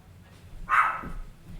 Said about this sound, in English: So if you hear some barks in the background, that's why.